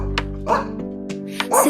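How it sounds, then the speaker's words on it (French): A dog's barks are sung as part of a French children's song about farm animals, with short yelping bursts set over steady musical backing. "C'est un chien qui saute de joie."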